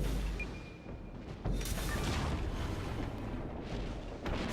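Torpedoes strike and explode on an enemy ship's bow in a naval warfare game, with a deep, rumbling boom erupting partway through and lingering heavy roar around it.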